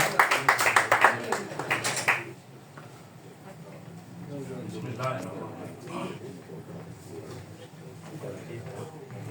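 A crowd at a Punjabi conference in Lahore claps hard for about two seconds, a quick burst of applause that fades as a voice speaks over a quiet hall.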